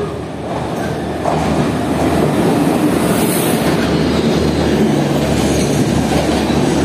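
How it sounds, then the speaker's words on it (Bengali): The Kaziranga Express passenger train rumbles steadily into platform 2 at Rampur junction, its wheels clattering over the rails with a low, continuous roar and a faint high squeal, with no voices. "টাইম হয়ে গেছে, ট্রেন ঢুকছে।"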